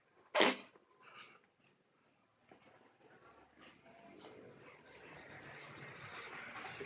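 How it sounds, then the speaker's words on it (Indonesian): A cat gives one sharp, close cough near the start. Softer rustling and breathing follow at a lower level. "kucing batuk"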